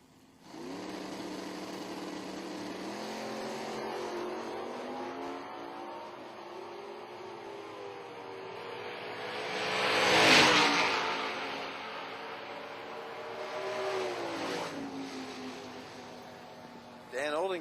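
Top Dragster race cars rumble in steady engine tones that climb and swell to a loud peak near the middle before easing off, heard from a distance across the drag strip.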